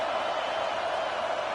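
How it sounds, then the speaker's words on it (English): A stadium crowd at a Texas A&M vs Ohio State football game gives a steady, dense roar of cheering that holds at the same level throughout. "It's early, but this crowd is fired up. Listen to this noise here."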